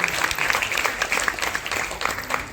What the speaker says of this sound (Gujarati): આપણે ખૂબ ખૂબ તાળીઓથી એમના પર